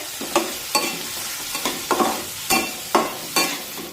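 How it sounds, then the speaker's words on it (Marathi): Onion and tomato sauté in a pan for a drumstick curry, with a steady sizzle broken by about eight regular scraping stirs of a spoon, close and fairly loud, with no voices. "टोमॅटोसुद्धा मऊ होईपर्यंत शिजून घेऊया"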